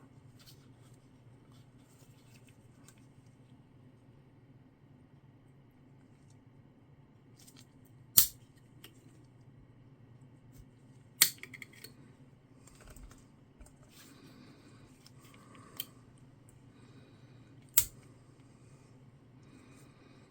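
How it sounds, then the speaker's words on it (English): Cured stems are trimmed off sand dollar crafts, likely with scissors, giving a few sharp isolated snips and clicks spaced several seconds apart against a quiet low hum. "that is cured up enough to where I can trim those stems off"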